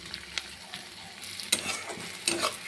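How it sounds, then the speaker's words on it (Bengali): Onion, garlic and green chilli frying in a pan for egg curry, with a soft steady sizzle and occasional stirring scrapes and clinks; no talk. "প্রথমে আমি পেঁয়াজ, রসুন আর কাঁচা লঙ্কাটাকে ভেজে নিচ্ছি।"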